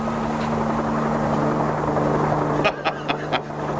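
A helicopter's steady rotor drone and engine hum fill the scene at a moderate distance, with a few sharp clicks and thumps near the end.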